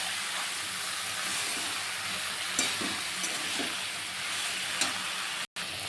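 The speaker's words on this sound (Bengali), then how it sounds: "আর এখানে একটু সামান্য কাশ্মীর লঙ্কার গুঁড়ো দিয়ে দিচ্ছি, রঙ হওয়ার জন্য। এবার এগুলোকে ভালো করে কষা।" A spice paste of ginger, garlic, green chili and Kashmiri chili powder stir-fried for a dried fish curry, giving a constant hissing sizzle with a few soft stirring knocks and a brief dropout near the end.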